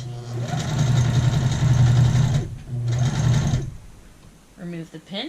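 A sewing machine stitches a skirt dart in two loud, steady runs separated by a brief pause, then falls quiet, with a voice speaking at the end.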